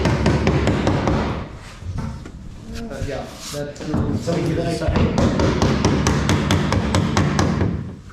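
Metal hammer blows strike rusty sheet metal on an endurance race car under build in a garage, a dense run of sharp knocks and clanks over several seconds while people talk.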